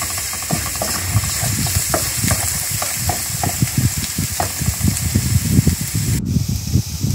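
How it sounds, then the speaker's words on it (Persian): Garlic and turmeric fry in oil in a pan with a busy crackling sizzle, broken by frequent stirring scrapes and small spits, close and loud, with a sudden change in the hiss near the end. "زردچوبه بذارید 1 دقیقه سرخ بشه"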